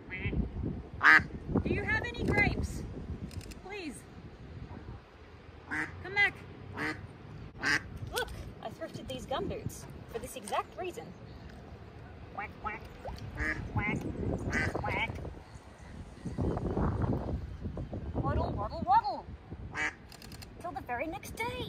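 An injured duck with a broken leg quacking in repeated bursts, near and fairly loud, with busy clusters of calls and other noise around it.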